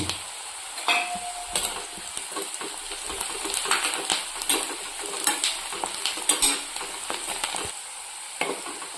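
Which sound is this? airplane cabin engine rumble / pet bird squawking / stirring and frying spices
stirring and frying spices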